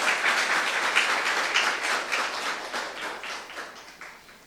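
Church youth congregation clapping together after a sermon appeal, a dense wash of many hands applauding at moderate volume that holds steady and then gradually fades toward the end.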